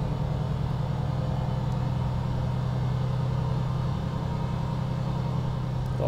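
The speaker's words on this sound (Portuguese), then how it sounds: "O freio motor do bicho é bruto" Heavy diesel drone of a Volvo VNL 2023 truck engine braking in American Truck Simulator, a steady loud low rumble held without a break throughout.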